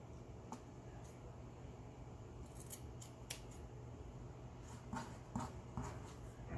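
Scissors snipping a small piece for a Halloween bat decoration pick, several faint sharp cuts spaced out over a steady low background hum, close by and without speech.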